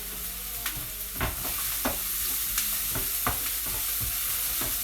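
Onions and garlic frying in a hot pan give a constant bright sizzle, with several scraping stir strokes breaking through at intervals, close up and without voices.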